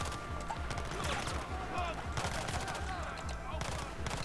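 Rapid automatic gunfire in Battlefield 4, shot from the hip, rattles steadily under a busy mix of battle noise while a voice talks over it.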